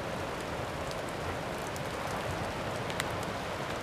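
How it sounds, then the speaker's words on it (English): Rain patters steadily through woodland, a close, even wash of drops that continues without a break and with no one speaking. "The rain has settled a little bit."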